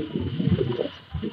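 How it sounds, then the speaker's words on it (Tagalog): Pigeons coo softly in low, throaty murmurs close by, with a faint hiss of ambient noise behind them. "Ang daming kalapati."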